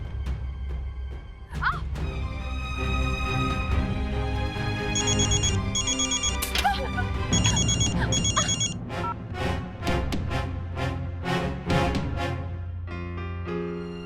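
A telephone rings on and on without being answered, a repeating electronic ring pattern over dramatic background music in a TV drama scene.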